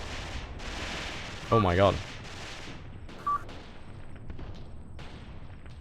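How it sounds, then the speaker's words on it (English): A PPSh submachine gun rattles off in the Mius Front battle game, a burst of sharp reports amid distant gunfire and explosions, with a man exclaiming over it. "You can hear the like sound of the PPSH. It's very, very distinctive."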